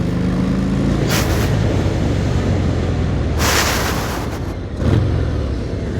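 A Harley-Davidson Fat Bob 114 motorcycle cruises in third gear through Cebu City traffic, its engine a steady low rumble under loud wind buffeting, with bursts of rushing noise.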